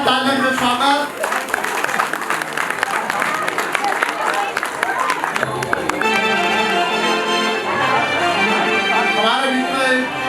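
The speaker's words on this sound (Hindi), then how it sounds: "जोरदार तालियों से स्वागत।" Audience at a stage event in Uttarakhand breaks into loud, sustained clapping to welcome Mrs. Heera Koranga, a dense wash of hands over music that lasts throughout.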